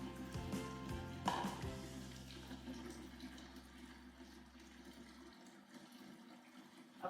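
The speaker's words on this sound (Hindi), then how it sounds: "अब गर्म पानी आना शुरू हो गया" Hot water runs from a kitchen tap while dishes are washed, a quiet steady stream of hissing and splashing with a low hum underneath that cuts out near the end.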